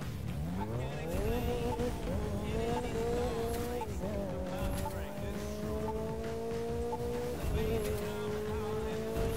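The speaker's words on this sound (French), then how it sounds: "c'est quoi ce dérapage de merde" Game car tyres skid and squeal in the racing game The Crew 2 as engines rev and shift gears, with a voice talking over the driving throughout.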